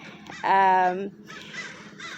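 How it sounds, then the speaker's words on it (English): One loud, harsh crow caw rings out nearby, followed by softer bird squawks and rustling noise. "Got a bunch of birds squawking."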